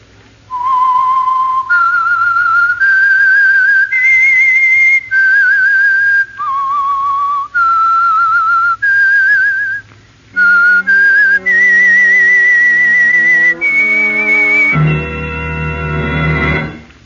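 A clear, loud whistled melody of sustained pitched notes, rising and falling over several phrases, ending with a brighter, harmonically rich passage.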